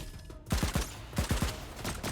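A shotgun turret firing in Lost Skies, two clusters of three heavy booming blasts in quick succession, loud and close, with a deep low thump on each shot.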